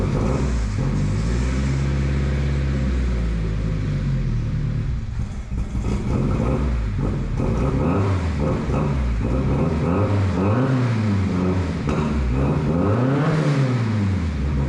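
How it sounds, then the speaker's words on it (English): A car exhaust with a 3-inch downpipe feeding a Vibrant 3-inch ultra quiet resonator on a turbo 510 hot rod produces a sustained engine rumble that rises and falls through several revs, loud and close, with no talking. "So the sound clip you just heard was a 3-inch downpipe to a 3-inch, 3-inch ultra quiet resonator from Vibrant"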